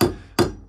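Two sharp hammer blows drive 60 mm hammer-fix fixings straight into blockwork during roof work, each a loud close strike with a short ringing decay and a third hit just starting at the end.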